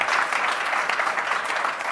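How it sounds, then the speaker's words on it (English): Audience at a React developer conference bursts into clapping after a product release announcement, a dense crackling wash of many hands, loud and sustained throughout with no voices over it. "I don't understand why anybody would clap now"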